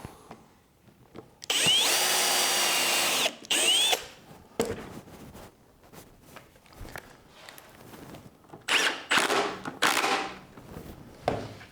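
A power drill whirs in two bursts while pre-drilling pilot holes in clamped wood, the first long and sustained with pitch rising and falling, followed by clunks and shuffling of handling wood.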